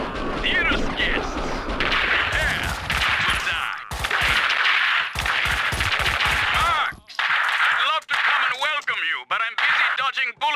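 Gunfire from the video game Max Payne 2, with rapid bursts of loud shots and fusillades over an action soundtrack, broken by brief pauses and heard under spoken dialogue.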